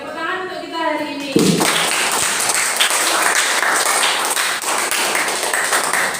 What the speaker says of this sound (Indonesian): Oke, tepuk tangan untuk kita hari ini